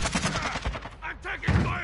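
Sniper gunfire in a video game, a short run of sharp shots and rattling fire heard fairly close, with a voice speaking over part of it.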